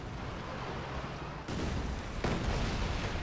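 Artillery rocket barrage in the video game Company of Heroes 2, a rumbling wash of blasts with two sharper bursts of impacts landing in quick succession, moderately distant.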